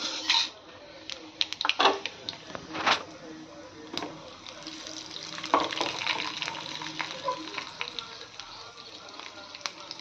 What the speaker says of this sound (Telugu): ఇక్కడ పోపుకి ఆయిల్ పెట్టాను కదా. ఆవాలు, జీలకర్ర, మెంతులు, ఎండుమిర్చి